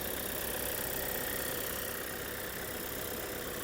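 A 2020 Skoda Superb Laurin & Klement 4x4 with all-original bodywork idles steadily, a quiet, even engine hum with no knocking or gaps and no voices over it.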